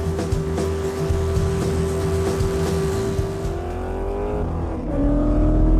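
A rally race car drives at high speed on an isolated road, its engine a loud sustained drone that climbs in pitch, dips as it shifts or backs off around 4.5 seconds, then surges again.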